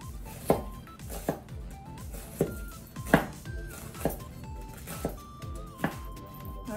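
Two onions chopped with a knife on a cutting board: about eight distinct, fairly close thunks at an uneven pace under a quiet background, no talking.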